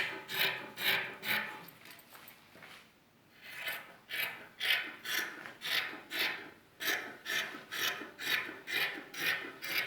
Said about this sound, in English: The next thing is to cut out the fabric.